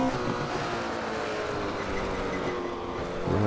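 Racing-game engine of a 1968 Porsche 908 LH pulling hard at the Nürburgring, a dense steady roar with rising harmonic lines and a louder swell near the end, heard alone.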